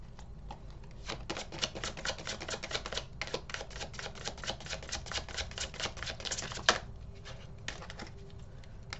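Tarot cards being shuffled up close, a rapid flurry of soft crisp clicks and flutters that rattle along in quick bursts.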